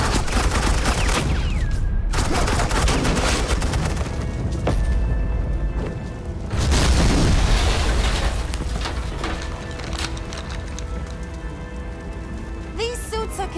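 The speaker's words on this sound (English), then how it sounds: "suppressing fire" Suppressing gunfire in the video game Batman: The Enemy Within, sustained rapid shots that roar loud and dense, with a brief pause before the fire resumes, heavy booming impacts underneath and a sharp whine near the end.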